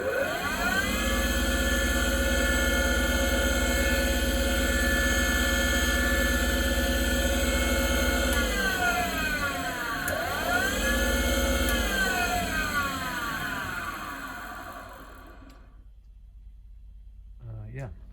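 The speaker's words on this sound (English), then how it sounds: "also I can show the motor running" A Fischer SFJ 50mm spindle on a belt-driven Swiss toolpost grinder runs with a steady, close, high-pitched motor whine. Its speed sags briefly twice, then it winds down and stops near the end.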